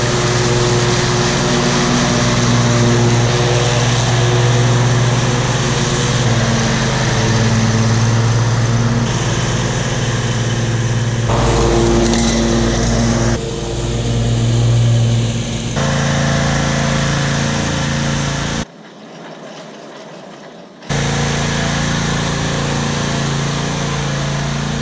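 John Deere riding lawn mower engine running steadily and loudly up close, a continuous droning hum with shifts in load, briefly cutting out for a couple of seconds before resuming.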